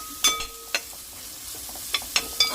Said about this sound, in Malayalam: ഉള്ളിയിടുക നല്ലോണം ആ എണ്ണയിൽ തന്നെ ഇട്ടുകാണ്ട് നല്ലോണം മൂക്കിക്കണം